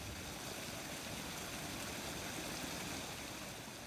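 A river flowing around a bend, giving a steady broadband rush of moving water that stays even and fairly faint throughout, with no voices.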